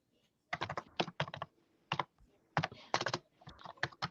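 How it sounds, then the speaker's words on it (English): Someone types on a keyboard close up: quick clusters of crisp key clicks broken by brief pauses, loud and alone, with no voices. "What are you typing"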